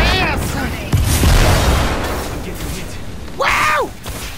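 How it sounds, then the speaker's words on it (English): A grenade blast in a first-person shooter video game, a loud broadband boom landing about a second in and rumbling on, amid continuous gameplay noise with a shrill in-game call at the start and another near the end. "Grenade! In your evil ass!"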